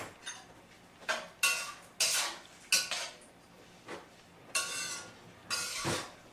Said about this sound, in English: You stir it well and cover and let the vegetables cook